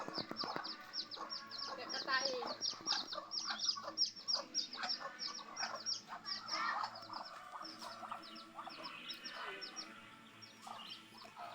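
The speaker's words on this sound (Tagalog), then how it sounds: "Ito pa yung isang inahin." Continuous clucking and chirping from a hen and chicks, with birds calling over one another at moderate distance and faint voices mixed in.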